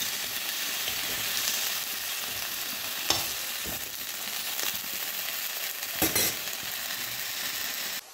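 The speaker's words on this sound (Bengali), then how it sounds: "পটল আর এদিকে বেগুন ভেজে নিচ্ছি।" Pointed gourd and brinjal frying in a pan, a steady dense sizzle running throughout with a couple of brief clinks of a utensil stirring, no voices.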